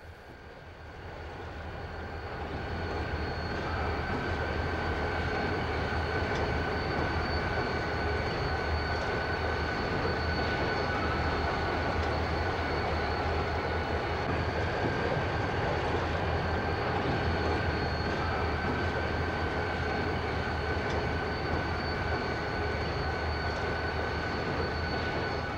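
Two Rio Grande SD40T-2 model locomotives on a club layout rumble steadily along the track, giving a continuous mechanical drone with a faint high whine that stays level for the whole stretch, without talk.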